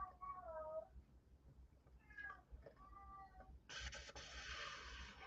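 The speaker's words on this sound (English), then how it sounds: "There's the cat meowing for no reason." A house cat meows several times with rising-falling cries over the first three seconds, then a broad hiss or rustle of noise takes over; quiet room background.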